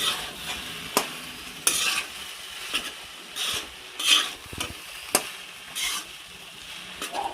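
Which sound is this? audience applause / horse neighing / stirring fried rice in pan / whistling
stirring fried rice in pan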